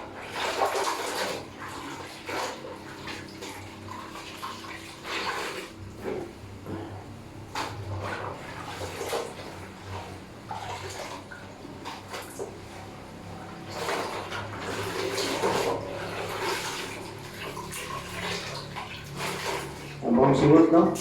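Water runs and splashes steadily while someone is bathed, with intermittent knocks and shuffling, and people talk over it throughout.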